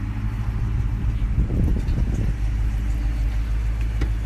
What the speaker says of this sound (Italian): scegliamo una macchina in affitto molto sobria, la Dodge Charger, una bestia da circa 400 cavalli